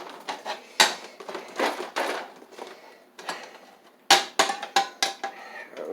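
An old tin skillet, a cheap stand-in for cast iron, is handled, giving several sharp, irregular metallic clanks and knocks close by, with softer rattling between the louder hits.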